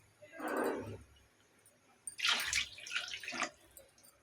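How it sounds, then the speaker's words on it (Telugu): Water poured from a glass into a cooking pot for chicken dum biryani, two splashing bursts separated by a pause, close and fairly quiet. "దీంట్లోకి 2 గ్లాసెస్ ఆఫ్ వాటర్ యాడ్ చేస్తున్నాను"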